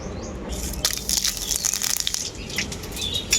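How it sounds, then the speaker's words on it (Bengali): Bay leaf, cinnamon, cardamom and whole cumin hit hot mustard oil in a pan, giving a crackling, spitting sizzle with bursts of sharp pops, moderately loud and close. "তেলের মধ্যে দিয়ে দেবো তেজপাতা দারুচিনি এলাচ আর গোটা জিরে"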